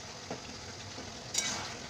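Chopped green chillies and tomato frying in a pan, a soft steady sizzle with a couple of faint stirring taps and one brief clink, no talk.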